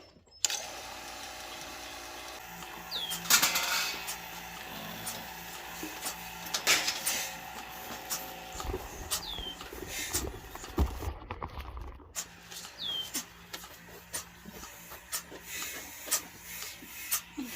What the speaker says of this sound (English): Okay, so here's my pump.